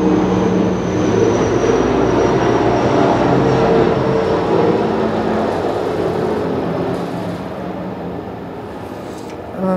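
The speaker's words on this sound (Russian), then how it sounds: "у нас самолет летает, потому что у нас на следующей, по-моему, неделе будет праздник военный, вот, и практику делают" A military airplane on a rehearsal flight before a military holiday roars overhead as a loud, steady broadband rumble that slowly fades toward the end.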